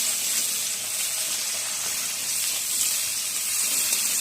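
Chopped onions land in a hot pan while chow mein is being cooked, giving a loud, steady sizzle and hiss of frying that holds evenly throughout with no speech.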